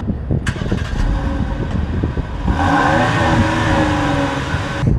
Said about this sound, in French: j'ai essayé de la démarrer à l'arrêt et de mettre un coup d'accélérateur